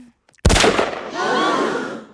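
A single sharp gunshot in a Family Guy cartoon cracks loudly and close, followed by a long ringing, echoing decay that fades over the next second and a half.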